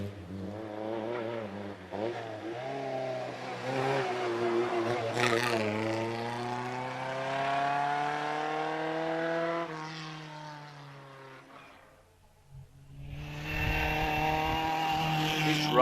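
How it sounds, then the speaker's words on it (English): A Riley-engined Falcon Special racing car climbs the Prescott hill climb, its crisp engine note rising through the gears with clear upshifts, fading briefly into the distance before another engine roars up loudly nearby. "These Riley engines sound really crisp, don't they?"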